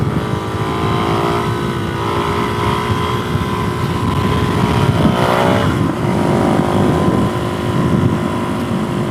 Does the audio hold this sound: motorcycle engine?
yes